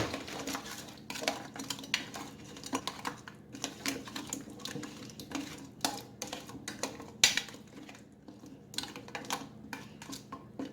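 A spoon stirs ragu meat sauce in a crockpot, giving faint, irregular clinks and scrapes against the pot at close range, with no talking.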